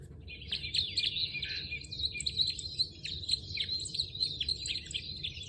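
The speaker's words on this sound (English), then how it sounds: "And then has the actual bird call." Recorded bird call played from the small speaker of a backyard and woodland birds picture book: a run of bright repeated chirps and tweets continuing steadily throughout, over a low hum.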